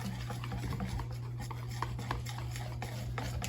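Beer batter with garlic and spices is stirred in a bowl, soft close scraping and swishing strokes over a steady low hum.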